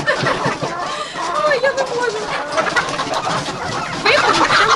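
Chickens cluck and a rooster calls in a busy flock, close by, while a person talks over the birds.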